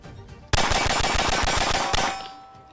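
A compensated pistol fires Federal HST rounds in a rapid string of about a dozen sharp, loud shots over roughly one and a half seconds, then ringing decay.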